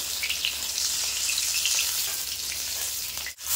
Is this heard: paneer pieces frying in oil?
yes